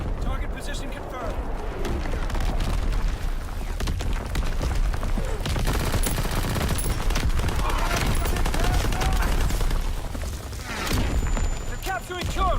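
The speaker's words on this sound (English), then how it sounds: "Firing division artillery." Division artillery fire in Call of Duty WW2 lands as a dense barrage of booms and rapid gunfire bursts, loud and continuous, with voices talking over the battle.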